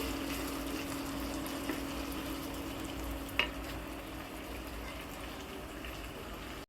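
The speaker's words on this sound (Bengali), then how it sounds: "জায়ফল জয়ত্রীর গুঁড়ো গোলমরিচের গুঁড়ো এটা দিয়ে একটা রোস্টের মশলা বানিয়ে নিলাম এখন মশলাটা ঢেলে দিচ্ছি" A roast spice mix of nutmeg, mace and pepper powder is poured into four kilograms of mutton frying in a pan, giving a steady quiet sizzle with one brief clink partway through.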